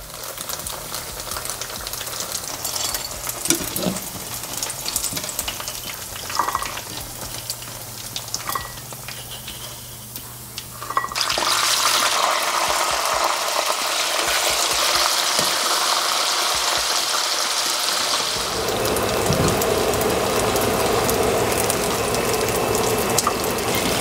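Tofu fries in hot oil for a sisig dish, a steady loud sizzle and crackle that grows broader and more intense partway through, with some clinking handling sounds and no talking.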